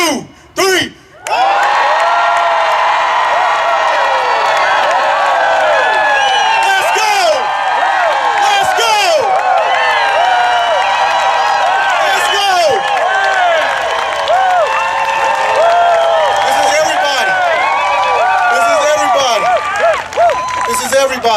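A large crowd at a rally about the school-to-prison pipeline bursts into loud, sustained cheering, whooping and screaming on a count of three, holding at full volume for about twenty seconds with a few brief dips.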